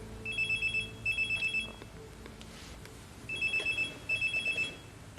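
A mobile phone rings with a repeating electronic ringtone, two bursts of rapid trilling tones, a pause, then two more, clear and close with no one talking.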